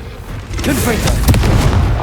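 Confringo spell blast in Hogwarts Legacy, a loud booming detonation with rumbling low end and crackling bursts, layered over a shouted voice amid ongoing combat.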